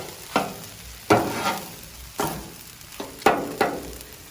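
A spatula scrapes and stirs chicken and pork fried rice in a hot pan, six or so sharp scraping strokes at an uneven rhythm over a soft, continuous sizzle, close and fairly loud.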